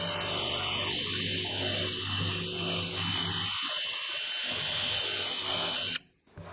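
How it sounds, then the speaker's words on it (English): Wire brush scrubbing rust off a metal part of a 1951 Chevrolet rat truck, a steady harsh rasping that runs continuously and loud for about six seconds before stopping abruptly. "if you want a less orangey color, you can just use a wire brush"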